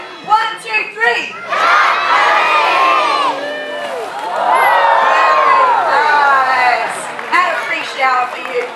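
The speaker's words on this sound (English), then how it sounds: "get the entire audience to put their hands up in the air on the count of 3 and yell out, "Jump, Murphy."" A zoo seal show audience at Taronga Zoo yells and cheers together, a loud sustained crowd roar with children's shouts rising over several seconds, tapering into scattered whoops.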